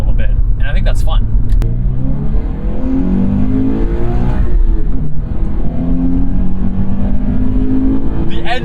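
Scion FR-S sports car engine revving up toward 5,000–6,000 RPM with a gravelly, whirring drone, rising and falling in pitch through the run, heard from the cabin under steady road noise.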